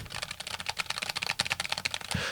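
Rapid typing on a Cougar Slim low-profile optical gaming keyboard: dense, clattery keystrokes in an uneven, fast rhythm, close and fairly loud, with no voices.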